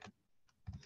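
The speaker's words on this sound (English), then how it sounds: "I can just type it because it's just one of the ones on the keyboard" A few faint clicks of keys typed on a computer keyboard, two or three quick taps spaced across under a second in a quiet room.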